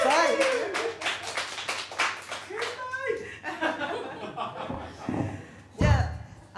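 A small group at a live music venue claps in a burst at the start, mixed with some chuckling, then the clapping thins out as a voice speaks over it.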